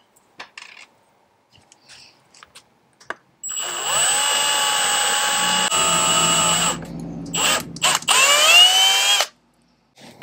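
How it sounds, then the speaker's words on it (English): A power drill boring a hole into a plastic light housing, a loud close whine that starts after a few clicks and handling noises, dips briefly, then revs up again before stopping abruptly. "Got it drilled."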